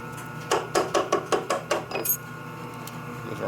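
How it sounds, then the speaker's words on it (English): A small metal shim drops during a Linkert M-88 carburetor rebuild for a 1942 Harley-Davidson WLC/WLA 45ci. It makes a quick run of about eight light, bright metallic ticks that bounce and fade over a quiet background. "Did you hear the lower shim drop?"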